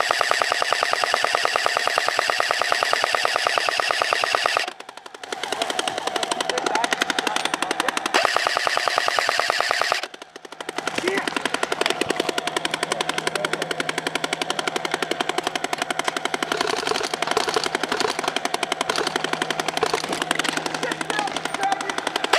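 An A&K M249 SAW airsoft machine gun firing BBs during an outdoor airsoft game, a loud, close, sustained stream of rapid mechanical shots broken by two short pauses.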